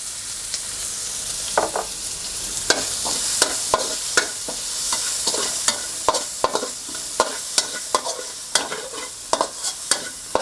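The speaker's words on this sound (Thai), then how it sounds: "คั่วพริกกับกระเทียมเราให้หอมก่อนเลย ต้องใช้ไฟแรงนะครับ" Red chilies and minced garlic stir-fried in oil in a wok over high heat for a Thai pork belly basil dish: a steady sizzle broken by repeated sharp scraping strokes of the spatula, close and fairly loud, with no talking.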